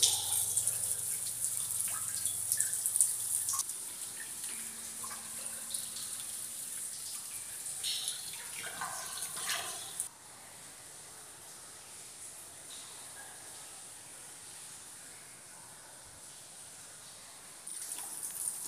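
Water pours and drips steadily inside the flooded 1.5-mile Manshead Tunnel at Turvin Clough, Cragg Vale, a broad hissing rush with scattered close drips echoing, louder at first, then easing to a continuous wash.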